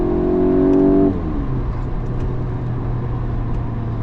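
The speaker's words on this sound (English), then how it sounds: "like that bit of a boom when you change up a gear" A BMW M340i engine hums loudly at rising pitch, then drops sharply with a boom as it changes up a gear, settling into a lower steady drone from inside the cabin.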